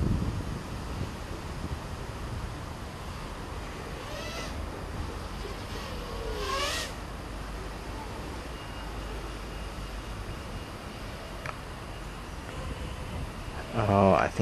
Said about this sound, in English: Oh, I think it's just a windy day.